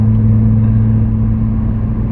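A Toyota Supra with a new M-pact clutch drives steadily, its engine a loud, close, even drone with constant pitch and no audible gear change in this short stretch.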